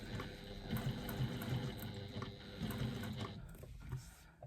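Sewing machine fitted with a Teflon presser foot stitching steadily, a continuous mechanical whir with rhythmic pulses running in bursts beneath and between a person talking.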